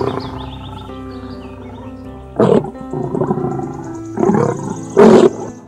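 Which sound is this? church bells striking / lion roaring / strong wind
lion roaring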